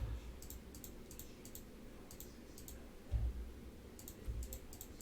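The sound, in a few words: computer mouse clicking while adding dots in Adobe Illustrator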